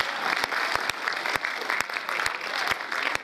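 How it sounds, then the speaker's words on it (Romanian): Steady audience applause, dense and continuous clapping from a crowd, with a few sharper individual claps standing out throughout. "puteți să aplaudați mai puternic"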